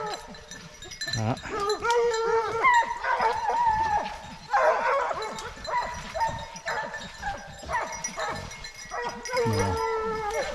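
A pack of French hunting dogs barks and bays repeatedly while tracking a fox, the barking moderately distant, steady and overlapping for the whole stretch with no talk over it.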